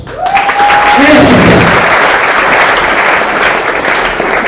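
Loud, continuous audience applause from a crowd at an education support event in Nairobi, held steady for the whole stretch, with a brief voice near the start.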